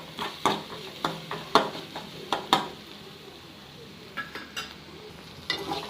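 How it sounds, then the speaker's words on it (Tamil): Ginger-garlic paste with turmeric is sautéed in a pan: a spoon scrapes and taps against the metal in quick irregular strokes over a faint, low sizzle, fairly quiet and close. "நல்லா வதக்கி விட்டுக்கோங்க."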